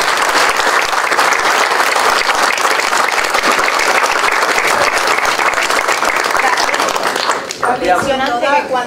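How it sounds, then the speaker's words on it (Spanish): A concert crowd gives a loud, sustained round of applause for a salsa band as its singer bids farewell. Dense clapping fills the room, crowd noise rises underneath, and it thins out near the end. "yo pido que le demos un aplauso a toda esa gente"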